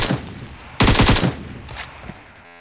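Gunfire in the mobile battle royale game PUBG Mobile: a loud, rapid burst of automatic shots cuts in sharply, then fades into quieter distant shots and game noise.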